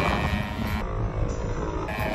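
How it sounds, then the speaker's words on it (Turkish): An RC model airplane engine runs steadily at a model aircraft festival at Hezarfen airfield, a continuous buzzing drone with wind noise, shifting slightly in pitch partway through. "Gerçekten çok güzel bir sesi var motorun."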